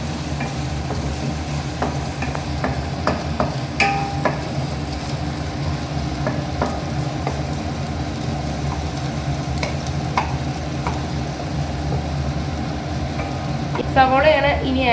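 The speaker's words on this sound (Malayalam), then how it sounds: "ചൂടായ എണ്ണയിലേക്ക് ഇനി ഇഞ്ചി വെളുത്തുള്ളി ഇട്ട് കൊടുക്കുകയാണ്" Ginger and garlic frying in hot oil for restaurant-style Gobi Manchurian, a steady close sizzle with scraping and stirring clicks throughout.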